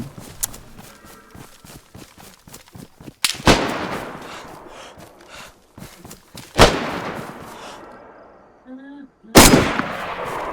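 Gunshots ring out in DayZ: three loud, sharp reports with echoing tails spaced several seconds apart, separated by quieter footsteps and movement, with no talk.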